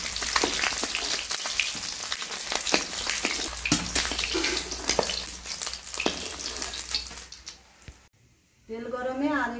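Eggs frying in hot oil give a busy crackling sizzle with spattering pops, close and fairly loud, fading out near the end before a voice briefly speaks.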